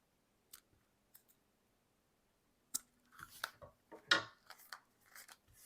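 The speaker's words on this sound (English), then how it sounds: "So I'm just going to turn it over and snip" Sharp scissor snips trimming dried paper on a layered tuck-spot craft piece: a few isolated clicks early, then a quick cluster of crisp cuts close by, with no talking.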